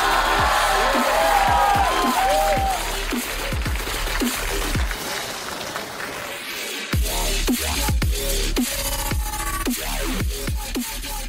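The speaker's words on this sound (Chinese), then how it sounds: "让我们掌声有请" A studio audience at a stand-up comedy show cheers and claps for a rapper walking on stage, a moderately loud crowd roar with scattered sharp claps and whoops.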